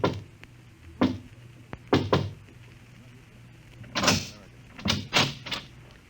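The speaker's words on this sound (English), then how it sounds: "He pauses, looks behind him, then knocks quietly on a door." Quiet knocking on a door on a deserted street around eight: a few soft, separate knocks and thuds, some paired, spaced out over several seconds in near silence, with no voices.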